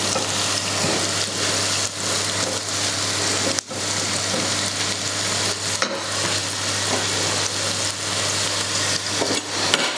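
About 500 grams of pasta in a pot gives off a constant loud bubbling, hissing wash, with a few scraping stirs and brief knocks at about 2, 3.6 and 6 seconds.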